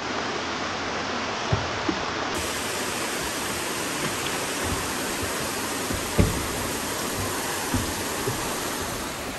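Steady broadband rush of a waterfall at a trekking spot near Lonavala, constant and close, with a few faint knocks and clicks over the roar.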